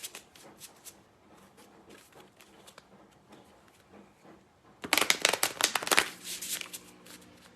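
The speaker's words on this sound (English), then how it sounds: "I'm just going to shuffle a couple times." A deck of cards is shuffled a couple of times: soft riffling at first, then a louder, crisp burst of rapid flutters close by, with a quiet hum in the background.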